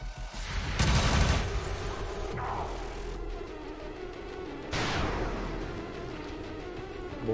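Video game gunfire in XCOM 2: War of the Chosen with the Long War 2 mod, with two loud bursts of shots and booms, each ringing out into a noisy reverberant tail.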